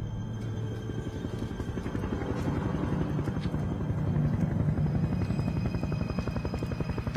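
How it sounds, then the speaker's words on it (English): A helicopter approaches over trees, its rotor thumping in a fast steady rhythm under a droning engine that grows louder and nearer across several seconds, with no voices. "Over the trees I could see a very bright white light heading my direction, the distinctive sound of a helicopter."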